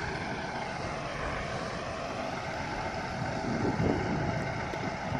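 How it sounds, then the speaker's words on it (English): London Midland train from Birmingham New Street pulling into Liverpool South Parkway station, a steady loud broadband engine and rolling rumble that swells slightly near the end, no speech. "pulling in now is going to be another London Midlands service terminating in from Birmingham New Street"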